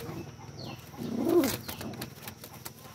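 A Lahori pigeon gives a single soft, throaty coo close by, rising briefly over a quiet background of faint rustling.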